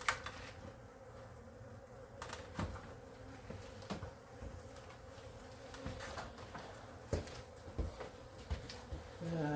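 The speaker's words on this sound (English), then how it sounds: "after I remove these bees, I'll take them and put them in one of my managed hives" Steady insect buzzing from many honeybees being removed from inside a drywall wall fills the scene, a continuous drone with occasional soft knocks and shifts, fairly close.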